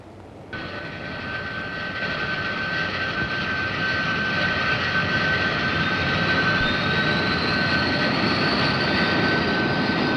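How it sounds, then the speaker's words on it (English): Jet aircraft engines spooling up from start, a broad roaring rush that swells steadily with a rising whine above it, loud and continuous for the whole stretch. "Start jets."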